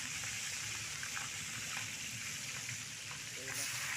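Green chillies dropped into goat meat frying in a pan with whole cumin, giving a steady dense sizzle throughout, with a brief bubbling crackle near the end.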